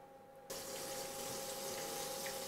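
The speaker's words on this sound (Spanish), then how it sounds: "acabamos de enharinar nuestros trozos de pollo, los echamos a freír" Floured chicken pieces drop into hot oil and burst into a sudden loud, continuous sizzle that stays steady at close range, with no voices.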